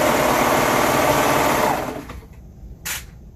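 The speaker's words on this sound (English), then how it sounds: "let's sew some sleeves" Sewing machine stitching sleeves onto a sweater runs with a steady motorized whir for nearly two seconds, then slows and stops, followed by a brief soft rustle.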